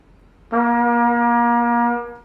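A single sustained brass note, steady and fairly low, starts cleanly and holds for about a second and a half before stopping.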